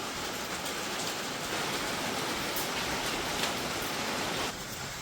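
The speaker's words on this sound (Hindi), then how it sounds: "अभी बारिश हाल फिलहाल बहुत ज़्यादा हो रही है" Heavy rain pouring down, a steady dense hiss of drops striking surfaces with occasional louder spatters, continuous and fairly close, with no voices.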